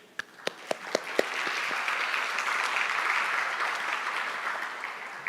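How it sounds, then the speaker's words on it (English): An audience at a music information retrieval conference session applauds a DEI program, opening with a few distinct claps before swelling into steady, moderately distant clapping that slowly thins out. "So I would like to give a big applause to their program."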